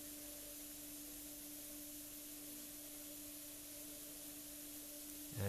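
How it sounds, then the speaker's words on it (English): A steady, faint hiss of an airbrush spraying fine white paint runs continuously with a low hum beneath, ending in a brief louder bump. "here I am just spraying a bit more of white"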